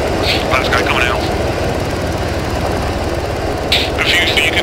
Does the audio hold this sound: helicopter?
yes